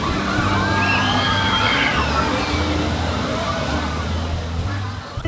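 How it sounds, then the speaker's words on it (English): Water gushes steadily from the Crown Fountain towers in Chicago's Millennium Park, splashing into the shallow pool in a constant rushing wash, with faint voices and city hum in the background. "every so often, the faces open their mouths and water shoots out"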